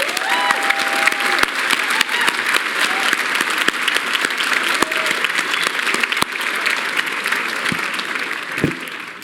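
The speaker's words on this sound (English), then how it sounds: "So I'd like to give a big round of applause to Sue Folger" An audience at a college's 46th commencement ceremony claps in a dense, steady round of applause that holds evenly for several seconds, with a brief vocal note near the start and scattered sharp claps standing out.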